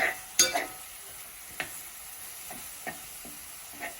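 Ground beef browning in a pan for chili cheese fries, a soft sizzle beneath repeated sharp scrapes and clacks of a utensil stirring the meat at irregular intervals, close and clear.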